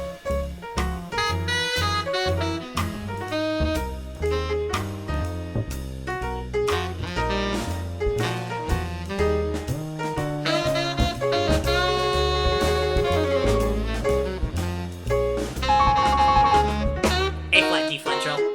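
Solo jazz piano plays a busy ending, dense chords and runs drifting from black keys onto white keys and sounding increasingly clashing, a steady close performance with no talking.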